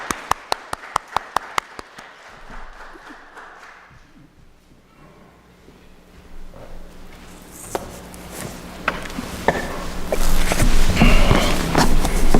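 A church congregation at a Sunday worship service applauds to welcome a pastor. A few sharp taps come first, then clapping swells into loud, dense applause toward the end, with no talk over it.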